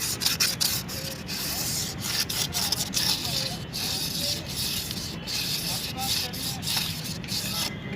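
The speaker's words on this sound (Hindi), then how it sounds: "इसे भी थोड़ा सैंड पेपर से घिस लीजिए।" Sandpaper rubs by hand over the inside of a car brake drum, where the brake shoes sit, to clear off carbon: a rough, continuous scratching with quick rhythmic strokes, close up, and faint talk now and then.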